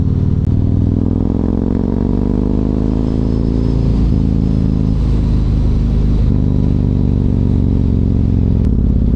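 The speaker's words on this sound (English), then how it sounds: "Traffic all the time." A Yamaha MT-01 motorcycle rides along a busy midday road with traffic around it, its loud, steady engine rumble dominating throughout and small shifts in pitch as it rolls on and off the throttle.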